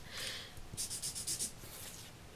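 Soft scratchy strokes of an alcohol marker across paper, a few quick short swipes close by and quiet.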